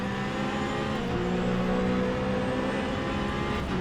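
Race car engines in the Le Mans Ultimate racing game, a loud continuous engine drone with rising and falling pitch as the car accelerates and other cars run close by.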